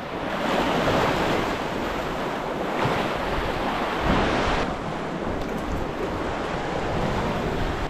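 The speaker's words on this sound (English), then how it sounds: "The water's moving so fast," Fast-moving sea water and surf churning against rocks along an island shoreline, a steady loud broadband rush with surges of waves and some wind buffeting the microphone, no voices.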